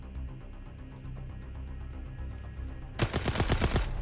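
A rapid burst of gunfire in the video game Arena Breakout erupts after a few seconds of low ambient hum, several sharp shots in quick succession.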